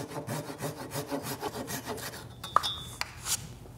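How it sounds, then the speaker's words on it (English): A handsaw cuts through wood for a large Lego-style sword and shield prop, with regular back-and-forth rasping strokes close by, ending in a few sharp knocks and scrapes. "I'm just gonna have to go in with the handsaw and cut that last little bit"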